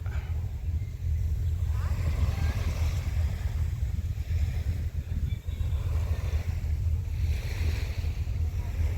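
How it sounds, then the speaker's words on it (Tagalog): Bangka outrigger boat moving over the sea near Pundaquit, Zambales, with a steady low engine drone and wave wash beneath wind rush, continuous and fairly loud throughout. "Bangka."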